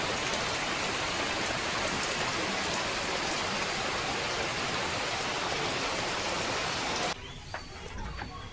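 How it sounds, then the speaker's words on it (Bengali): Continuous rain pattering on a kitchen roof close by, a dense steady hiss of drops that suddenly drops away near the end. "এই দেখো কেমন বৃষ্টি হচ্ছে রান্নাঘরের যে চাল চালের উপরে বৃষ্টি ফোটা ফোটা পড়ছে"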